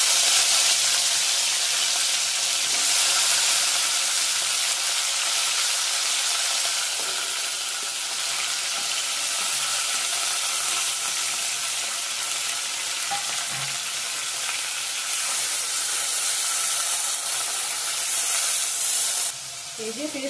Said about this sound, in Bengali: পনিরটা ভেজে নিব এখন